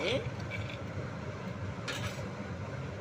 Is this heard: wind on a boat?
no